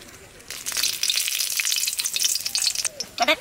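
Dried red chilies hit hot oil and burst into a loud crackling sizzle that keeps spitting and popping, with a sharp stir or scrape near the end.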